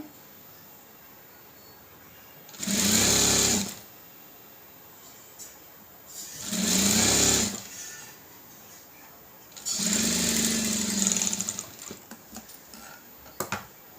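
A sewing machine stitching two blouse pieces together with a half-inch seam, running in three loud, close bursts of rapid whirring separated by quiet pauses with faint handling noises.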